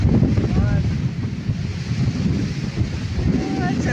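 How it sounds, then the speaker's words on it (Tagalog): Strong, steady mountain wind buffets the microphone with a continuous low roar, gusting slightly throughout. "malakas na yung simoy ng hangin ng babalo dyan"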